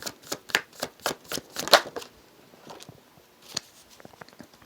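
Tarot cards are shuffled in quick, crisp riffling bursts, followed by softer flicks and slides as cards are drawn and laid down, close and quiet with no talking.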